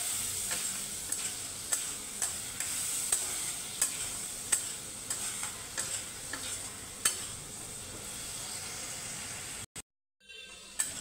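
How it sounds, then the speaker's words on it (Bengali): Ginger and green chili paste fries in a pan. A constant sizzle runs under regular, evenly spaced scraping stirs, then it cuts to silence near the end. "এটা একটু ভাজা ভাজা হবে।"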